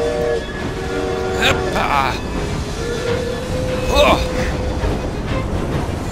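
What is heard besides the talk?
train passing in Assassin's Creed Syndicate video game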